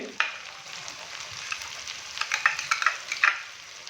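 Chopped onions, tomatoes and green chillies get stirred in a frying pan for bitter gourd and onion sabzi. A steady soft sizzle runs underneath, and louder scraping strokes cluster toward the end. No voice is heard.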